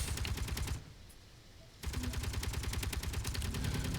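Rapid machine gun fire in the Space Engineers space combat game comes in dense, evenly spaced bursts, loud and close, with a clear pause of about a second before the firing resumes just as fast.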